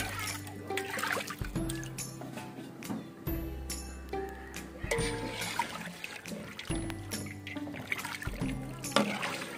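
Water poured into a large pot of village-style chicken biryani gravy made with three kilos of rice over a firewood stove, sloshing and splashing in uneven bursts with occasional metal clinks, while people talk nearby.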